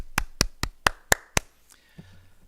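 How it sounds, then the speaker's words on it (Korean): Congregation in a Korean Sunday church service clapping in thanks, six distinct, evenly spaced claps ringing out in a quiet room, then a faint low sound as they stop. "하나님께 감사의 박수 드리겠습니다."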